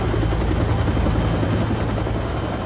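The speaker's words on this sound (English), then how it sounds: "A rescue helicopter from the Los Angeles County Fire Department arrived within 12 minutes." A Los Angeles County Fire Department rescue helicopter roars steadily and loudly nearby, its rotor producing a continuous dense thumping wash with no voices.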